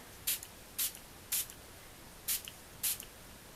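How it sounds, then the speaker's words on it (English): A spray bottle mists water onto a card being made with bubble splash decorations, giving five short, crisp hissing spritzes spaced at uneven intervals against a quiet background. "I'm going to spray."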